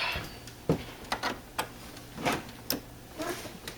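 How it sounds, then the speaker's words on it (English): A Kodak printer starts up after its repaired power cord is plugged in, giving a series of separate mechanical clicks and ticks at irregular intervals, close and fairly quiet. "So I'll go ahead and plug in, try the printer, see if it starts"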